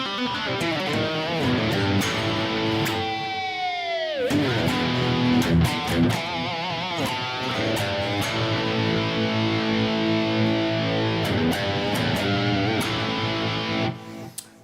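Electric guitar with a distinctly breaking-up pickup, played alone: sustained chords and bending notes with a gritty, mildly distorted tone, ringing continuously and close for about fourteen seconds before cutting off.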